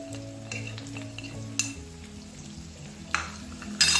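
A spoon stirs red chili powder and cumin in a pan for Assamese jackfruit pickle, giving soft scraping and light sizzling with a few sharp metallic clinks against the pan near the end, close and fairly quiet.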